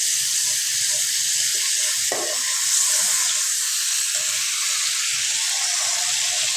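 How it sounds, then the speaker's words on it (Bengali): Panch phoron five-spice seeds sizzling in hot oil while cooking an olive chutney sweetened with date palm jaggery: a steady, fairly loud frying hiss that runs unbroken throughout, with no one talking. "এভাবে পাঁচ ফোড়ন দিলাম তেল দেওয়া করে"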